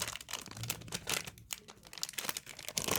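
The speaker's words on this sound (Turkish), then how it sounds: "Şimdi ilk şeker kısmını açıyorum." Close crinkling and tearing of the thin candy wrapper on a Kinder Joy egg, a busy, faint rustle of plastic foil with no talk.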